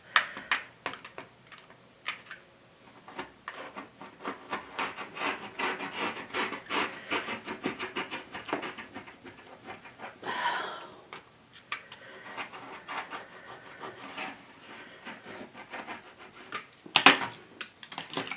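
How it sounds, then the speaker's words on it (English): An old, dull blade is dragged repeatedly across material to cut it, giving a quiet series of scraping, ticking strokes in irregular succession, close by and with no talk. "I'm probably going to have to run my old dull blade across this about 8 times to get it to cut"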